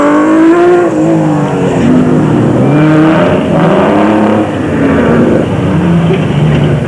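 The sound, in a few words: Nissan Hardbody Super Truck racing on a dirt route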